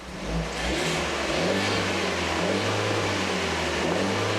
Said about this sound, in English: you can hear the turbo spooling up when you rev it up